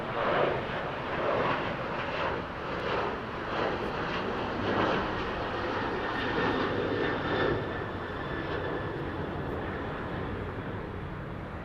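Airplane engines at Los Angeles International Airport during busy runway traffic, a loud continuous roar with broad rumble and swelling waves of jet noise, steady throughout with no talk.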